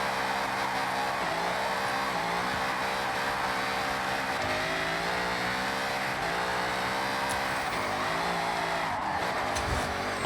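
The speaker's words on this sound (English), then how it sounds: "superchargers sometimes sound kind of weird in this game when you're like on limiter" A supercharged Ford Mustang Dark Horse drifts in Forza Horizon, its engine holding a loud, steady high-revving drone near the limiter with tire noise, continuous throughout without talk.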